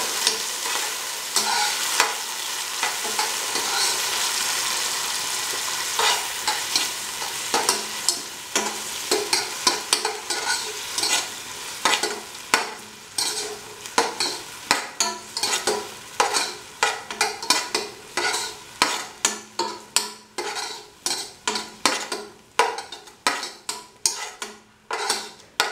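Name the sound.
garlic and tomatoes frying and being stirred in a pan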